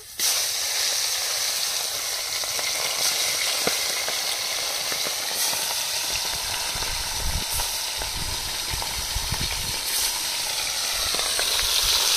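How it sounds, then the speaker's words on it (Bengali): Fish fries in hot oil with a loud, steady, close sizzle and spitting crackle that carries on without a break, with a few dull knocks low underneath. "মাছগুলো ভেজে নেব।"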